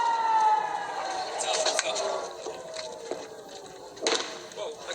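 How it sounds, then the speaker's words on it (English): A wailing air raid siren sweeps slowly in pitch, fading out over a few seconds, with scattered bursts of outdoor noise and faint voices, in a town in Israel during wartime. "the sirens are near non-stop in towns close by"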